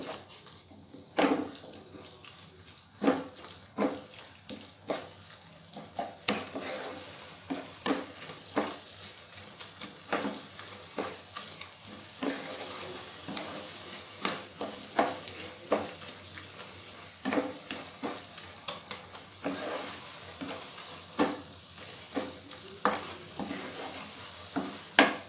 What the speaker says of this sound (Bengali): খানিকক্ষণ কষে নেব।